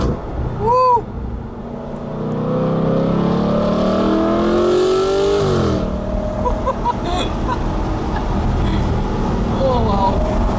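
A 2013 Audi R8 with a naturally aspirated V8 revs and upshifts, engine note climbing in pitch then dropping at the shift, loud and close, with people exclaiming over it.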